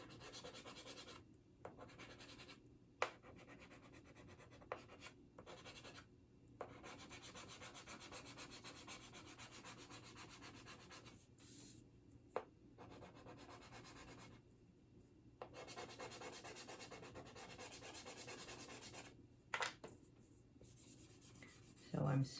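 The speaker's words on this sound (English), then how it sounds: "So I'm smoothing it out and blending" Graphite pencil being smoothed and blended across paper on a drawing of a gray cat in snow, a soft continuous rubbing texture with brief pauses, close and faint.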